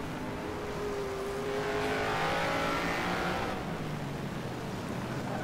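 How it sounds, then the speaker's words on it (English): Chevrolet V8 engine of a 1971 Can-Am race car at Mosport, heard on board, roars loud and steady with rising revs and a continuous close mechanical drone. "listen to that beautiful Chevrolet engine"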